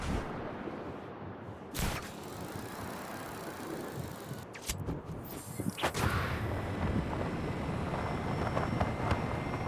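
A helicopter flies in a video game, a continuous whirring rotor and engine drone broken by a few sharp thuds, steady and moderately loud.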